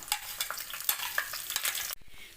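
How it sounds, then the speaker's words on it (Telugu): Tempering seeds crackle and sizzle in hot oil for rasam with quick popping bursts, close up, then cut off abruptly near the end. "ఇప్పుడు పోపు పెట్టేస్తున్నాం తాలింపు గింజలతో మనం ఇప్పుడు పోపు పెట్టుకుందాము"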